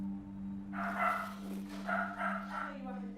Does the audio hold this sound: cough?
no